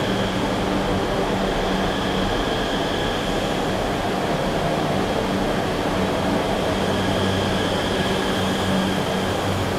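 Namo Bharat Rapid Rail train pulling into a station on the Delhi–Meerut line, a steady broad rumble and hum of the train running throughout with faint high tonal whine.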